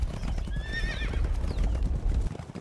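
A horse whinnies loudly up close while its hooves clop steadily underneath, the neigh rising and falling once over a dense, rumbling background.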